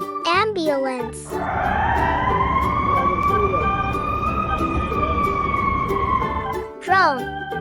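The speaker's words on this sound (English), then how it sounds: "Ambulance." Ambulance siren wailing loud and steady for several seconds, with a voice speaking briefly before and after it.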